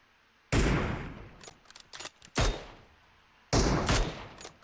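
Gunfire from a PUBG Mobile match on Erangel: several sharp, loud shots in separated bursts with a scattered crackle of lighter shots between, set against quiet game background.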